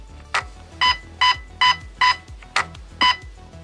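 Crisp electronic beeps from a GATE Aster V2 airsoft fire control unit repeat in a quick, steady run, very close, with soft clicks beneath and no voices.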